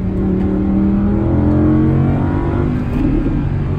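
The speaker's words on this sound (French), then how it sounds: "Avec ce petit retour de gaz au lâcher de pédale quand même, ça reste assez impressionnant." A 2020 Audi R8 V10 with 620 hp revs loudly and close up, its engine note rising and falling smoothly, then a throttle blip pops as the pedal is released near the end.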